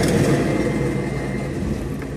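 A car with a P0704 clutch switch fault starts, a dense, loud engine rumble that is already running from the first moment and holds steady and even at idle throughout, with no voices.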